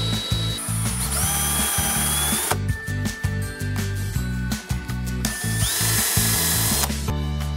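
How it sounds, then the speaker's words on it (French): A power drill with a metal bit bores into the centre of a lead weight for a fishing jerkbait, a loud steady whirring grind with brief pauses and restarts, alone with no voices. "avec la mèche en métal, on vient au centre du plombage et on enlève de la matière"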